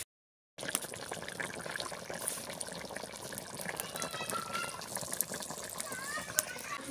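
Water is poured or filled in an outdoor village kitchen while pigeon curry is cooked on a clay stove, a steady splashing, trickling wash under background noise, mid-close and moderately loud.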